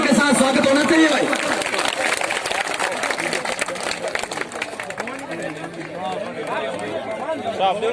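A crowd at a thanks-giving gathering claps to welcome a guest being honoured with a turban, a loud, steady, rolling applause mixed with chatter and a voice talking over it.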